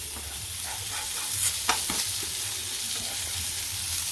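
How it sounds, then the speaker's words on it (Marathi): Surmai fish fries in a pan with just two or three spoons of oil, giving an even, close hissing sizzle with a couple of brief utensil knocks, no talk. "दोन तीन चमचे तेलामध्येच आपली फिश फ्राय होते"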